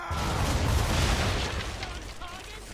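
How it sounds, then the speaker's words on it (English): Ship cannons fire a broadside at an enemy vessel in a video game, a loud dense rolling boom of overlapping blasts that sustains and slowly fades over a couple of seconds. "aim all guns at her bow and do as much damage as possible. Fire!"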